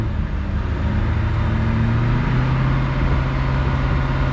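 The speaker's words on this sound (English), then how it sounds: "we'll give her one more rev just so you guys can see really fast here" A cold 2000 Corvette's 5.7L LS1 V8 idles with a loud, close, steady rumble, then is given a single quick rev that lifts the engine pitch before settling back toward idle.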